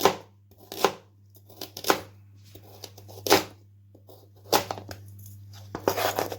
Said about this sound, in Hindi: इस तरह इसे इस तरह टुकड़ों में काट लें।